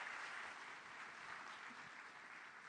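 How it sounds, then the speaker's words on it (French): Faint, distant applause from a business competition audience for the first finalist team, a soft, even wash of clapping with no distinct individual claps. "Une bonne main d'applaudissement pour la première équipe."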